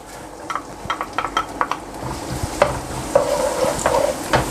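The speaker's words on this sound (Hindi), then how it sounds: "एक कढ़ाई के अंदर आधा कप घी गरम कर लिया है। मैं इसमें डालूँगा 1 अदद प्याज।" Chopped onion tips into hot ghee in a karahi, giving a steady close sizzle broken by repeated scraping and stirring clatters from the pan, with no voices.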